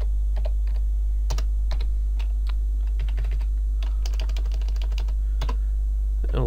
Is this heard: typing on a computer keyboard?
yes